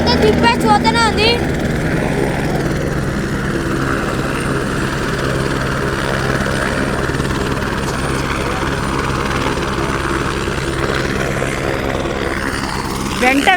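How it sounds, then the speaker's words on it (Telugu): Helicopters shuttle back and forth at Kedarnath, their rotor and turbine drone loud and continuous throughout while people chat over the noise. "హెలికాప్టర్స్ అయితే ఒక్క క్షణం కూడా అవతలేవు."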